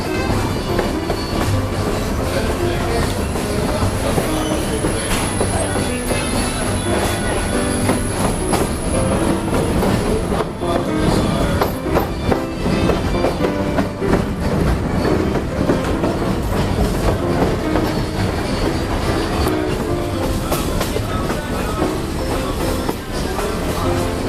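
Heber Valley Railroad heritage train rolling along the rails, a steady loud rumble of wheels and carriages with rhythmic clatter and a high wheel squeal drawn out through the first half, continuous and close.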